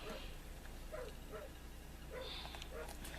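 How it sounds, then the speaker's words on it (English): A dog barks outside at night, a series of short, faint, distant yips and barks spaced about half a second apart over a low steady background hum. "my dog's barking like that"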